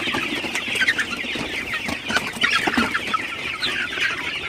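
A flock of Sonali super hybrid chickens on a poultry farm clucks and murmurs continuously, many overlapping birds at close to moderate distance, with busy bursts of calls and no speech.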